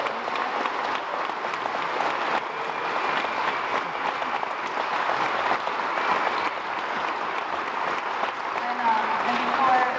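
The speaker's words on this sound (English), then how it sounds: "Let's give a round of applause." A film festival audience applauds after a Q&A for a screened feature, with sustained, even clapping from a large crowd filling the room, moderately loud and unbroken.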